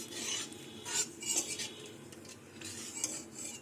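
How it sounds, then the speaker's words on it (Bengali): A spatula scrapes and clinks around a wok while mustard oil is spread over its sides, giving intermittent close metallic rubbing and taps over a faint sizzle, with no voices. "এবার খুন্তি দিয়ে কড়াইয়ের চারিপাশে তেলটা ছড়িয়ে দেবো যাতে মাছটা লেগে না ধরে।"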